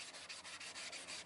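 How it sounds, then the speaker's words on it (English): Sandpaper rubbing over car body filler at 80 grit during dent repair, a steady scratchy rasp in quick repeated strokes, close up and fairly quiet with no voices. "Okay, so we're sanding down the third coat."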